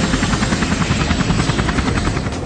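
Helicopter flying overhead during aerial reconnaissance of the Angkor Wat area, a loud steady rotor thump and engine roar filling the whole stretch without any voices.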